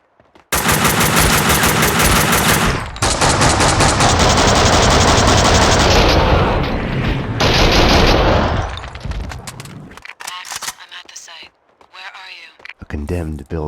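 Gunfire from the video game Max Payne 2: loud, dense bursts of rapid automatic fire that continue for several seconds, then break off into scattered single shots and game effects, with voices heard in places.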